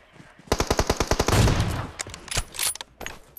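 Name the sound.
gunfire in a shooter video game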